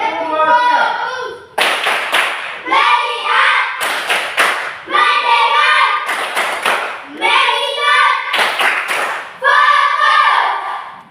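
Schoolchildren in an Indonesian classroom do a rhythmic "tepuk fokus" clapping chant, sharp clap bursts repeating in a patterned sequence and alternating with loud group voices.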